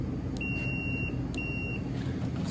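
A multimeter set to continuity, used to test a refrigerator temperature controller, gives two short high-pitched beeps about a second apart over steady background hum.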